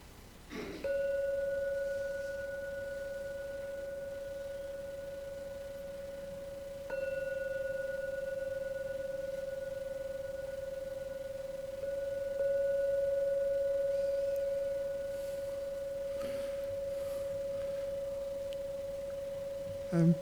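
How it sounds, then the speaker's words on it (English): A bell rung to close a meditation gives a sustained, pure ringing tone that fades slowly and is struck again twice, each time ringing on in a quiet room. "Now I'll do the jingle bell thing"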